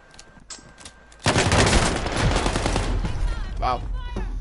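Video game gunfire in Warzone from a RAM 7 rifle and MP5 submachine gun: after a quieter start, a loud dense burst of rapid automatic shots bursts in and continues under busy game noise, with brief voice-like sounds near the end.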